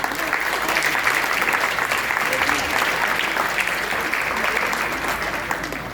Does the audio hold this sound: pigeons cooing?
no